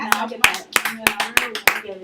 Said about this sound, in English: Can we get a round of applause for that shit?